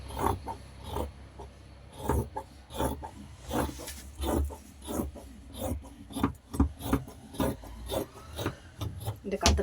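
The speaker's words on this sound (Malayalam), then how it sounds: "എൻ്റെ കത്രയൊക്കെ ഇച്ചിരി മൂർച്ച കുറഞ്ഞാണ്, അതുകൊണ്ട് കട്ട് ചെയ്യുമ്പോൾ ഇച്ചിരി ബുദ്ധിമുട്ട് തോന്നുന്നുണ്ട്." Dull scissors cut fabric for a frock nighty, giving a close, steady series of rasping snips and rubbing strokes with brief pauses between cuts and no talking.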